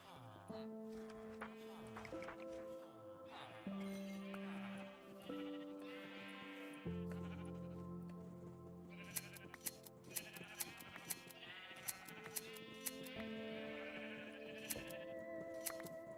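Sheep bleat in a video game, set over steady background game music with scattered sharp clicks.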